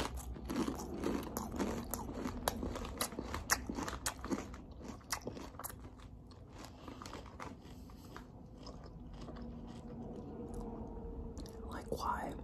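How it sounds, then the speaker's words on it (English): Close, crisp crunching and biting come in quick, irregular bursts, with soft whispered talk drifting over the chewing before it thins out toward the end. "Hearing the chewing sounds."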